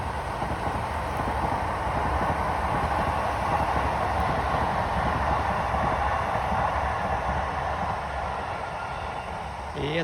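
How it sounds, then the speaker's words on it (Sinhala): A train passes nearby on a rural line beside a farm plot, giving a continuous, even rumble with a rushing wash of noise that holds steady for about ten seconds, without voices. "ළමයි ට්‍රේන් එක එන වෙලාව."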